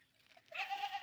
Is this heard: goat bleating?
yes